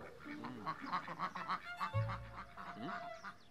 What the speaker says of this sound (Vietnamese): Ngỗng chạy ra rồi kìa.